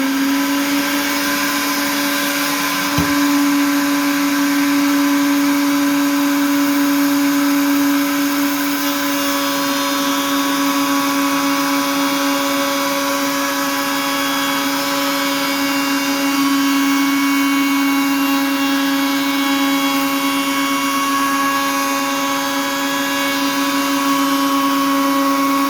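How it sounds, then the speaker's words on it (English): A wood router whines at high speed while cutting a new pickguard for an Epiphone Triumph guitar, a loud, steady, tonal scream close by, broken by one brief thump early on and otherwise constant. "I can turn the speed up on my router for this operation a little bit."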